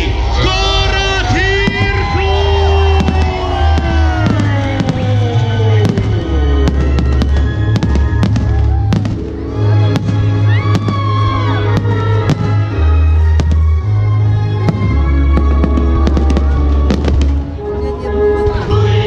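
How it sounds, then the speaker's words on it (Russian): A loud, continuous city-day fireworks display in Irkutsk with repeated bangs, whistles and crackling, and a crowd audible underneath. "сейчас будет салют."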